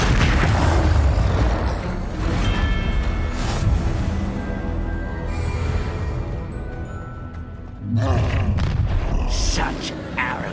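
Dense, continuous booming fire-spell explosions in the video game Hogwarts Legacy, layered with game music and effects, with a fresh loud burst partway through and a full rumbling low end throughout.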